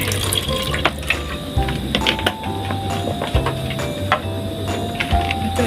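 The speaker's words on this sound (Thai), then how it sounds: "น้องเติมน้ำสะอาดไปเลยนะคะนิดหน่อย" Clean water poured into a pot while making Thai sweet potato in coconut milk dessert, a steady close splashing stream running the whole time with a low hum underneath.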